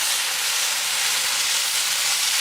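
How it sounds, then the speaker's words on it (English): Food for tacos sizzles loudly on a hot barbecue, a steady, bright, hissing crackle that holds constant throughout without any talking. "That's a good sizzle. Barbecue ASMR."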